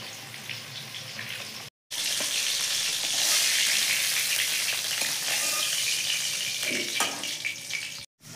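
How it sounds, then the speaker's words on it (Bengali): Pieces of katla fish fry in hot oil with a steady, close, crackling sizzle that runs throughout, broken by two short silent gaps; no one speaks. "দেখেন সব মাছ কয়টা আমি ভালো করে ভাজি নিচ্ছি।"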